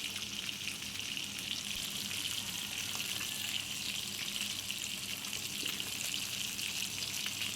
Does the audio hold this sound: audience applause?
no